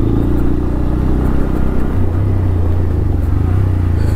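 A Bajaj Pulsar N125 motorcycle being ridden on a muddy road, its engine droning loud and steady at close range with a slight shift in pitch midway and no talking.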